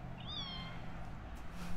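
A single shelter kitten gives a short, high meow near the start, alone over a steady low room hum with no talking.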